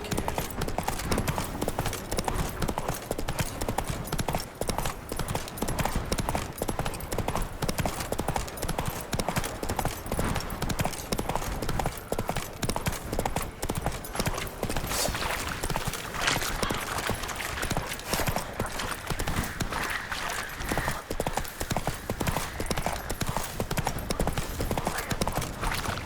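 The hooves of a horse named Roach gallop in a rapid, steady clip-clop rhythm throughout The Witcher 3: Wild Hunt, loud and continuous, with occasional game voices mixed in.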